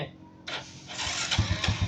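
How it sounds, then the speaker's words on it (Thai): A motorcycle starts on its electric starter after a battery jump: a short burst of cranking noise, then the engine catches with a run of low, uneven thumps building into a near, steady idle. "อ่ะเครื่องยนต์ติดแล้วนะ"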